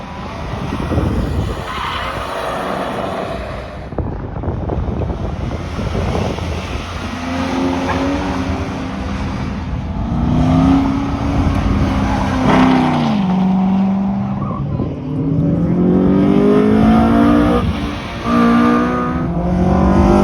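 Cars tear around an autocross course, with tires skidding and squealing over a steady engine roar that rises and falls with acceleration, continuous and loud throughout.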